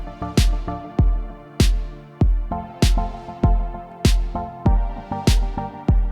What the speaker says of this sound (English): If I bring in my kick and my snare, this is what we get.